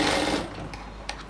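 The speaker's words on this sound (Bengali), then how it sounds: "ঠিক সেমভাবে অপর আরেকটা পায়ের মধ্যেও বাড়তি কাপড়টাকে আমরা ফোল্ড করে সেলাই করে দিচ্ছি।" A sewing machine stitches folded fabric on a leg of ladies' pants, giving a steady close whir that slows and stops, followed by a couple of faint clicks.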